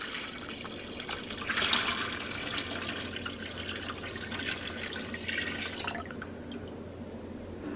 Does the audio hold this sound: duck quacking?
no